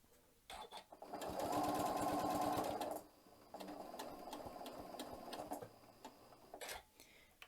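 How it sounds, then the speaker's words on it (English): Sewing machine running a rolled hem, two rapid bursts of fast, even needle chatter with a short pause between them, close and clear, followed by a few light mechanical clicks. "So I'm going to sew probably about a 1/4 inch from the end and then stop."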